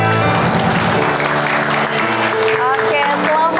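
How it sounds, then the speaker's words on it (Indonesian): A studio audience at a televised parenting talk show breaks into loud, sustained applause that fills the whole moment, with voices and tonal sounds running underneath. "tepuk tangannya boleh?"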